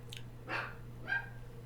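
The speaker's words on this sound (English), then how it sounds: "not that I have any notion that Jack shouldn't be barking" A dog named Jack gives two or three short barks at moderate distance over a steady low electrical hum in a quiet room.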